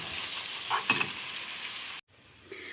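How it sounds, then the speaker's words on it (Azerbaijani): Two finely chopped onions sizzle in oil in a pan, a soft steady crackle and hiss with a few brief stirring clatters, faint and close, broken by a short pause before resuming. "mən 2 ədəd baş soğanı incə-incə doğrayıb yağda biraz qovuracağım"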